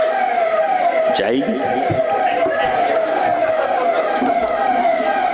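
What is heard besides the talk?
police car siren passing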